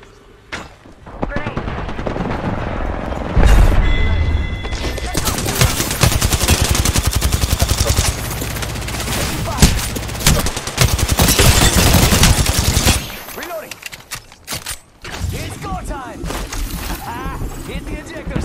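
Heavy gunfire from the video game Apex Legends rattles almost continuously in loud, close automatic bursts with single shots mixed in, easing toward the end, while voices talk over the action.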